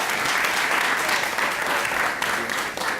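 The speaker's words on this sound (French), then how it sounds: "Encore sur vous applaudissements." Audience applause fills the whole stretch, a steady dense wash of many hands clapping at close range with no pause, loud and even throughout.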